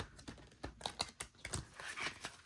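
Rapid crisp riffling and slapping of stiff, large oracle cards being side-shuffled, a series of quick close bursts with brief pauses between them.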